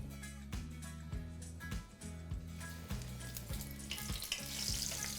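Onion rings sizzle and crackle steadily as they deep-fry in hot oil, a continuous bubbling hiss with a low hum underneath.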